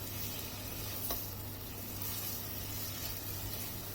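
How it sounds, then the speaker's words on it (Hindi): Chicken pieces frying on high heat in a karahi give a steady, dense sizzle that holds evenly throughout, fairly quiet and close, with no voices. "आंच को मैंने यहाँ पे हाई रखा है ताकि हमारी जो चिकन है वो जूसी बने और अच्छे तरीके से भुन जाए"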